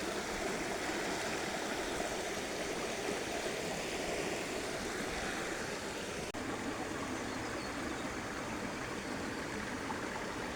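A creek flows through a rocky, quartz-veined setting in the morning, a steady broadband rush of water that stays constant and moderately loud throughout.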